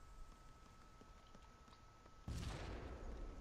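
A loud, sudden explosion in the video game DayZ bursts in close and heavy partway through, after a stretch of quieter gunfire and game ambience, then rumbles on to the end.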